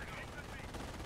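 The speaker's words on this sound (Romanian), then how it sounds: "Ia uite, mamă, mitraliere nebunii pe aici, pe felie." Machine guns rattle in a WWII strategy video game, a brief, dense stretch of rapid fire heard at moderate volume under a busy battlefield background.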